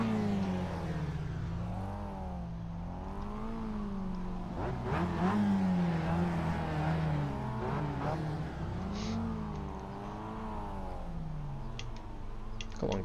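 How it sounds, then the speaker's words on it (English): Mazda race car engine in a racing video game, loud and steady with rising and falling revs as the car roars past at high speed, continuous throughout with no talking. "As the car goes past, very quickly and loud."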